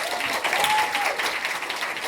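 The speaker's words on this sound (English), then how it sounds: "Big round of applause." An audience at a university conference closing session applauds, a steady wash of many hands clapping at moderate loudness with no talk over it.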